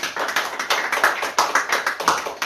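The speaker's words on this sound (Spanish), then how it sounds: "dale fuertes palmas al Señor" A church congregation claps together in a quick, steady rhythm, with many hands striking sharp, close beats and no voices over them.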